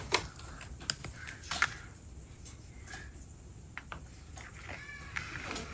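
Several short toy cat meows come in scattered bursts, mixed with small clicks and plastic handling noises against a quiet background.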